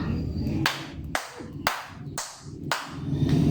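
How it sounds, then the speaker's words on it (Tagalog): A class of children claps in unison in a classroom, five sharp synchronized claps in a steady rhythm, each a loud crisp burst with quieter room murmur between them. "Bigyan natin sila ng 5 palakpak,"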